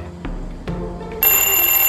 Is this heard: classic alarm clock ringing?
yes